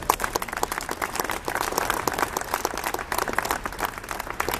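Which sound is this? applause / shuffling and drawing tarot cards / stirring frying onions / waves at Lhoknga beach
applause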